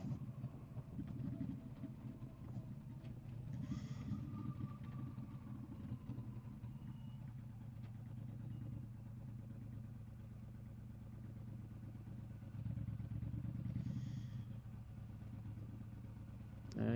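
A 1,300 cc motorcycle engine rumbles steadily while riding along a coastal island road, a low continuous drone with swells in throttle and wind buffeting, recorded close from the rider's position.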